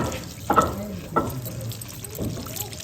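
Lentils being rinsed in water, with a few soft splashes and sloshes as the grains are swirled, close and moderately loud over quiet background hiss.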